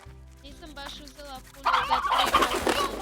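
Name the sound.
chickens clucking in Slime Rancher video game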